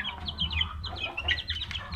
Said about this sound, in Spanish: Y vamos a dar acá los pollitos.